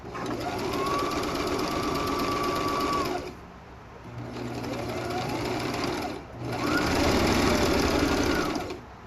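A sewing machine stitches fabric for a face mask, with runs of steady whirring stitches broken by short pauses as it moves forward and backtracks.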